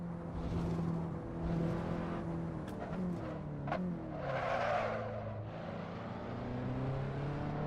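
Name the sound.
racing sim car brakes locking, tires skidding (video game)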